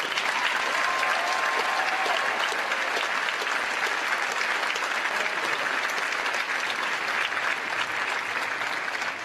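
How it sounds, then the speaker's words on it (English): An audience claps steadily throughout, a dense sustained round of applause from a crowd at moderate distance. "Please, a round of applause."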